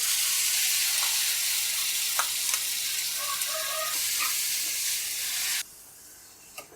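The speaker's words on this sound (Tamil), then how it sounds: "இப்போ முந்திரியும் திராட்சையும் வறுத்த அதே கீயில் இப்போ நம்ம திருவி வச்சிருக்கிற ஒரு கப் பீட்ரூட்டையும் சேர்த்து நல்லா வதக்கிடலாம்" Grated beetroot sautés in ghee in a pan, a steady close sizzle and frying hiss with occasional stirring clicks; the sizzle drops sharply quieter near the end.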